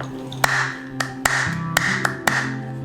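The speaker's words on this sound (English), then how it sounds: "she's desensitized to clapping while she's eating" Sharp hand claps ring out near a dog as she eats, four distinct claps spaced roughly evenly over a few seconds, each crisp and close against a low steady background hum.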